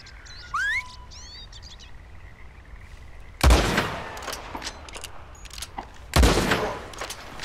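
Two sharp, loud gunshot bursts from Red Dead Redemption 2 while hunting a legendary moose ring out several seconds apart, each with a ringing tail, following faint synthetic chirps and tones.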